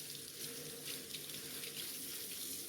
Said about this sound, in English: Put it under that water.